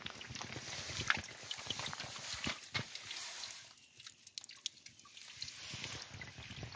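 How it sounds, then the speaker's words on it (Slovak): Mountain stream by a hut in the Eastern Carpathians, steady close water rush with small splashes and drips, filling the whole stretch without talk. "pri útulni je aj potok, kde si môžete nabrať vodu"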